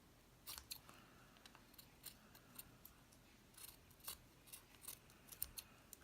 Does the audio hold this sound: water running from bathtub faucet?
no